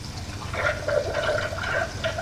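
Cooling water runs through a Monotype type-casting machine, a soft steady gurgling and rushing flow with faint bubbling, fairly quiet and continuous.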